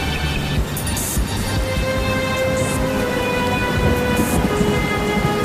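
Steady heavy rain pours down with a deep rumble of thunder rolling underneath throughout.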